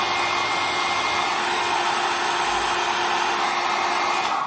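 A hair dryer style hot air styling tool running on its lowest heat setting, a loud, steady, close whoosh of blown air with a constant motor whine.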